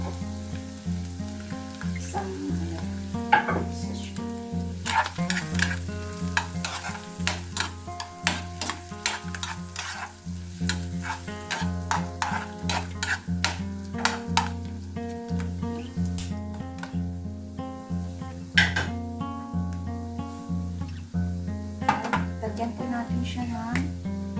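Mushrooms sizzle in a frying pan while being stirred, with sharp utensil scrapes and clicks over a steady frying hiss, alongside background music.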